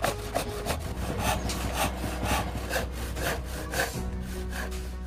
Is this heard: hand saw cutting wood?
yes